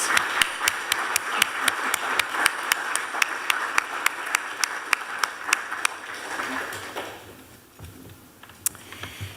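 Audience applause greets two Canadian writers at a book launch, steady clapping from a crowd for several seconds before fading out and leaving a quieter room.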